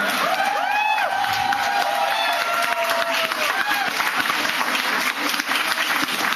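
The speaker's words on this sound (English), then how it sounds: "let's give a big round of applause for all the FBI agents who bought tickets" An audience at an anarchist event in New York City applauds and cheers loudly and continuously, with a few whoops and voices rising from the crowd.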